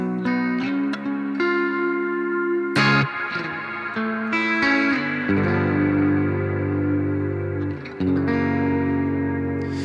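Electric guitar played through a BOSS GT-1000 patch modelled on a Fender Deluxe Reverb with chorus added, ringing sustained chords and arpeggiated notes with a shimmering modulated wash, loud and continuous with no talking.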